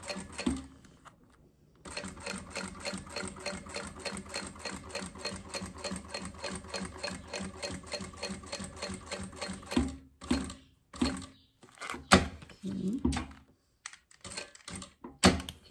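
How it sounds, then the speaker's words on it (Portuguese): A sewing machine stitching along the edge of a synthetic leather wallet, with a long run of fast, even mechanical stitching followed by several short, separate bursts near the end. "vem costurando aqui bem na beiradinha"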